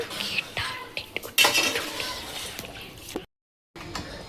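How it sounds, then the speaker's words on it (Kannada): Chicken pulao being mixed in a pot, with metal utensil scrapes and clinks against the pot, fairly close and steady, ending in a brief gap of silence before the clatter resumes. "ಈಗ ಎಲ್ಲ ಮಿಕ್ಸ್ ಮಾಡಿ ಇದಕ್ಕೆ ಮುಚ್ಚಳ ಮುಚ್ಚಿಬಿಡ್ತೀನಿ."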